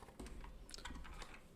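Quick, quiet keystrokes on a Kinesis split computer keyboard, a short irregular burst of light clicks and taps heard close up and alone.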